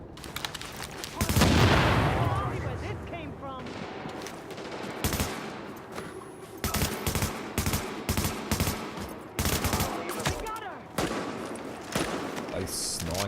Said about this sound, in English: Now that was some shooting.